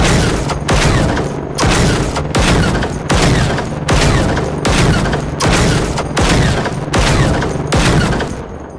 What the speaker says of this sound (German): Das waren jetzt knappe 11 Schuss.